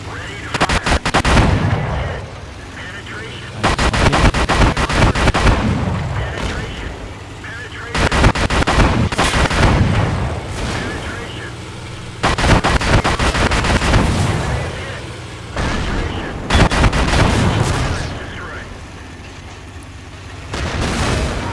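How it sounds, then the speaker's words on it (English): Tank guns firing and shells striking armor in World of Tanks, with loud booming bursts and crashing impacts in repeated long blasts, mixed with game voice lines. "Armor is hit. Penetration."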